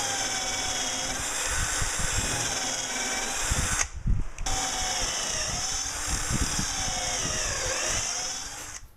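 A power drill bores screw holes into the rails of a wooden garden work stool, a steady close-up whine that cuts out briefly midway, with a thump, then resumes.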